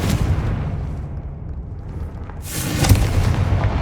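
A Confringo blasting spell explodes in the Hogwarts Legacy video game, a sharp burst with a heavy low boom near the end, preceded by a rumbling game ambience.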